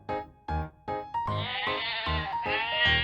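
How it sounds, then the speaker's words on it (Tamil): A domestic goat bleats in a string of short, wavering cries, several separate calls followed by a longer sustained bleat, close and fairly loud with no talking. "Goat."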